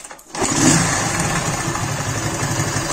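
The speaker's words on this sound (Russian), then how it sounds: "Сейчас мы его заведем со стартером." A worn, rebuilt moped engine catches on its electric starter after a brief crank, then settles into a steady, fairly loud buzzing idle close by.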